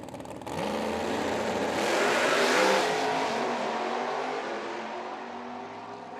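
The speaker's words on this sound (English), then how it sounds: "you heard Hatton's car, the torque converter, locking, unlocking, the thing shifting gears" A drag car launches at a street nationals meet at Bradenton Motorsports Park and roars down the track, its engine loud and sustained, the torque converter locking and unlocking as it shifts gears, the tone rising and swelling mid-run before fading slightly.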